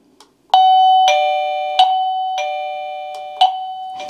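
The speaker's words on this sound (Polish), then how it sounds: "taki standardowy dźwięk dzwonka" Simplit T10 wireless kinetic doorbell chime rings its standard tone in a repeating pattern of bright, ringing bell strikes, about six chimes over four seconds, loud and close with sustained decay between hits.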